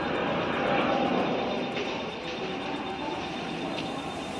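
A passing train gives a steady, continuous rumbling drone at moderate distance, holding level throughout with a slight swell early on and no voices over it.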